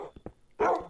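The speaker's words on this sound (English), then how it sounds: "Who's barking?" A dog in a Minecraft horror survival game barks once sharply and fairly near, preceded by a few faint short yips.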